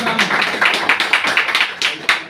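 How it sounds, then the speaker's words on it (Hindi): Audience in a hall clapping in a loose, uneven rhythm of sharp slaps, moderately loud and close, without speech over it. "तालियां बजाओ इसका,"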